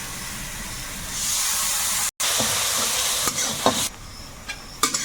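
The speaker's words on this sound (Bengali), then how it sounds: "মশলাটা ভালো করে কষিয়ে নিয়েছি" Spice paste of mustard, poppy seed and green chilli with turmeric, coriander and cumin sautéing in a pan, a rising hiss and sizzle with a brief cut, then scraping stirs and clatters, close up without talk.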